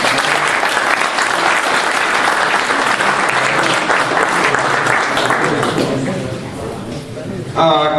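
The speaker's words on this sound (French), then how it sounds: "On peut l'applaudir." Spectators at a hunting dog pack competition in Amplepuis clap loudly and continuously for several seconds. The applause thins out near the end as a voice starts talking over the fading clapping.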